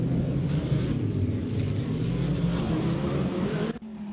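AI-driven race cars leaving the pits in a racing game: a dense, steady engine drone with layered revving tones, loud and continuous, cutting off abruptly near the end.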